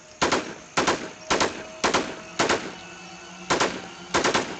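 AKM rifle bursts in a shooter game: a steady run of sharp shots spaced about half a second apart, a couple doubled into quick pairs, close and punchy with no talk.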